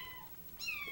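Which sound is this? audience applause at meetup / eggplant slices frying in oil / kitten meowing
kitten meowing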